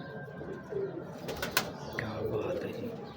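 Big breeder pigeons coo softly in short low warbles, close by, amid light chirps and background clatter.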